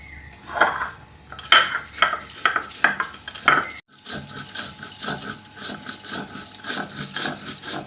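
Spice paste for a rasa curry ground by hand on a stone shil in a home kitchen: a run of sharp, rhythmic knocks and scrapes, then a steady, dense grinding rasp that carries on close and fairly loud.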